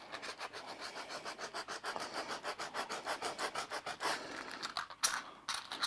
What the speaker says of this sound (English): what you do is you just rub the tin foil